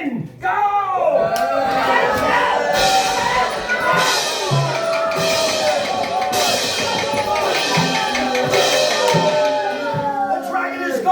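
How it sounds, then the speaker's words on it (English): Crowd of spectators cheering, whooping and yelling continuously during a live knight-versus-dragon battle show, loud and close, with shouting voices mixed throughout. "Cheer for who you want to win."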